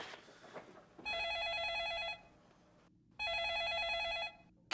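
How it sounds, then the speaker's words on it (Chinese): A telephone rings indoors in a Taiwanese drama scene: two long, steady electronic ring bursts, each about a second long, separated by a short pause, loud and close over quiet room tone. "去接电话啊，我家己转就好啊。"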